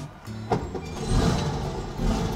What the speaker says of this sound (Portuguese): Cara, olha o barulho desse motor.